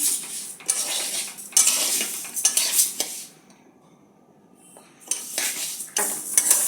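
Lentils dry-frying in a pan for khichuri are stirred with a spoon, making bursts of scraping and clinking against the metal, with a quiet pause midway before the stirring resumes.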